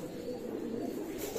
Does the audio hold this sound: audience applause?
no